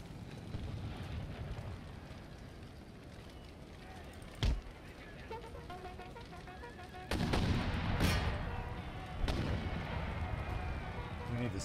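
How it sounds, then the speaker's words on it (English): Mortar and artillery fire booms across a battlefield in the Empire: Total War strategy game. A low rumbling din is punctuated by a sharp blast, then heavier overlapping reports and explosions; there is no talk. "Silence those mortars."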